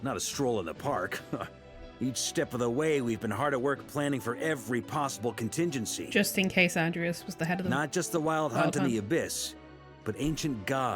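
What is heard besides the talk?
No everyday noises stand out.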